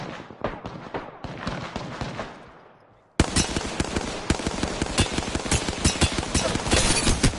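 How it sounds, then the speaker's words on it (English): Apex Legends gunfire crackles in rapid automatic bursts, first at a moderate level, then breaks off and resumes as loud, dense, continuous shooting close by. "They're shooting right now."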